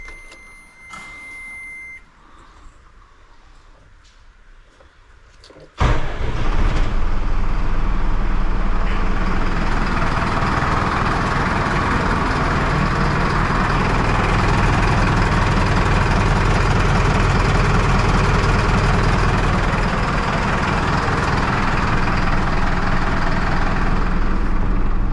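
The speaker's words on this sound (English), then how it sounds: "when we try and start the vehicle up." A Mercedes Ertiga with rear air suspension gives a couple of beeps, then its engine cranks and catches abruptly and settles into a steady, loud, close idle that continues to the end.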